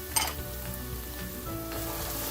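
Turmeric, chili powder and other spices fry in hot oil over a gentle low flame for a prawn masala, giving a steady close sizzle with a brief stir at the start, with no talk.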